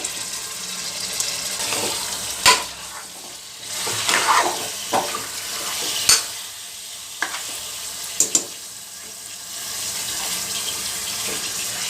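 Mutton frying in a pan on a home stove while being stirred, a steady sizzle broken by several sharp clinks and scrapes of the spoon against the pan, with no talking.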